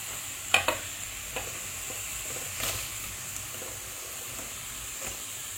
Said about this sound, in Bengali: এবার এটাকে এই রসুন বাটার সাথে ভালো করে একটু ফ্রাই করে নিতে হবে পেঁয়াজটাকে